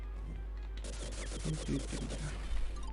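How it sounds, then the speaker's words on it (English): Rapid machine gun mode fire from the Sega game Vectorman, rendered as a quick burst of staccato retro blasts over a steady low hum, with a voice talking over part of it. "got machine gun mode."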